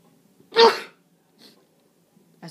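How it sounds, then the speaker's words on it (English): A single sharp, explosive human sneeze, close to the microphone, followed by a faint breath and near silence. "That's how I sneeze."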